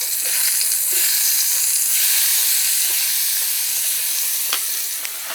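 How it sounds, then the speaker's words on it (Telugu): Potato pieces dropped into well-heated oil for an aloo matar dish, giving a loud, steady sizzle and hiss that holds for several seconds with faint crackles, with no talk over it. "ఆయిల్ మంచిగా కాగి ఉన్నది, సో నేను వేసేస్తున్నా"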